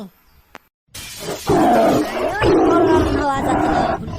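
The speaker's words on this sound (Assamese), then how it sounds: "সঁচাকে বাঘে চিঞৰিছে" A cartoon tiger roars loudly in an animated Assamese village scene. After a near-silent opening with a faint click, a long growling, strongly voiced roar surges in and repeats.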